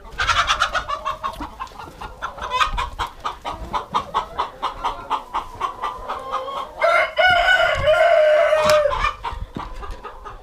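A flock of farm chickens clucks in a busy, overlapping chorus, close and loud, with rhythmic repeated calls and a drawn-out squawking cackle rising near the end.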